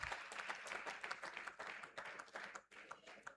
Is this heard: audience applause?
yes